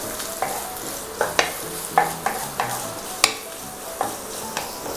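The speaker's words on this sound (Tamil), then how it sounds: "இதோட சேர்த்து வெங்காயம் ஒரே ஒரு வாட்டி மட்டும் வதக்கி விட்ருங்க" Onion and whole spices sautéed in hot oil and ghee for a mutton biryani, a loud close sizzle broken by repeated sharp spatula scrapes and stirs against the pot, no talking.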